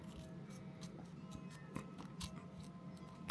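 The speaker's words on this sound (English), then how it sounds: "I got me some scissors." Quiet, close snips of scissors cutting around a stuck sticker, irregular crisp clicks spread through the moment with faint background hiss.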